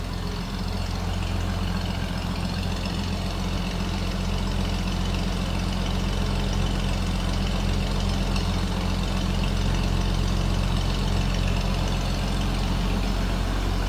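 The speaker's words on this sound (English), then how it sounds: "Very unique sound, you might say, as far as an exhaust in a car" A 1929 Chevrolet Landau Convertible engine idles steadily with a deep, rumbling exhaust note, loud and close, holding an even tone throughout with no talking.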